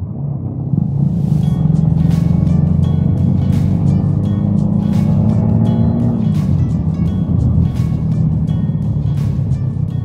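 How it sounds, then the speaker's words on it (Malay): A Yamaha Y16ZR motorcycle engine runs steadily and loud, with a low rumbling drone and a pitch shift midway as the rider changes speed, accompanied by faint ticking. "ini adalah motor terbaru keluaran Yamaha iaitu Y16"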